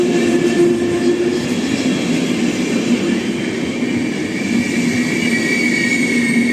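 A train stands at a station platform as a passenger boards a carriage, a loud, steady rumble and hiss filling the scene from start to finish with no talk.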